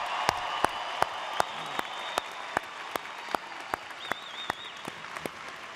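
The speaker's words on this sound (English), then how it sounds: "let's have one more round of applause for our graduating class." Applause for graduating NYPD police officers at their graduation ceremony, a dense crowd clapping continuously and loudly for about six seconds, with sharp individual claps standing out at a steady rhythm and a faint whistle near the end.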